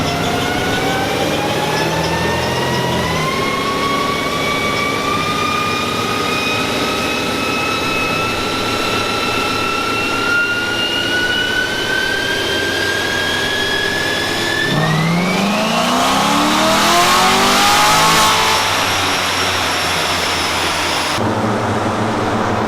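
A C7 Corvette revs hard on a dynamometer during a pull, a loud sustained engine roar that climbs steadily in pitch, then drops off and winds down toward the end.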